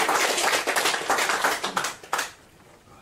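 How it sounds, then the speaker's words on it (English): A small audience at a magic show claps in a short, uneven burst of hand claps that tapers off after about two seconds, leaving quiet room sound. "Give this gentleman a round of applause."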